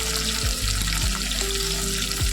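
Chopped onion fries in hot oil for mutton curry, a loud, close, continuous sizzle with a few stirring scrapes and low clunks against the pan.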